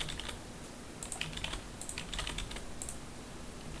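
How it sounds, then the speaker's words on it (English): Steady typing on a computer keyboard, quick irregular clicks and taps close up, filling the whole stretch with no voices. "I'm going to type some stuff in"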